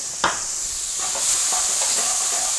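Onions and garlic dropped into a hot pan, a sharp crackle at the start giving way to a steady close hiss and sizzle that builds slightly over the next couple of seconds, with no talking.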